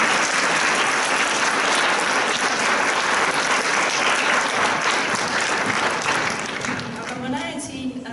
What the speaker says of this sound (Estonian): Nii et teeme neile suure aplausi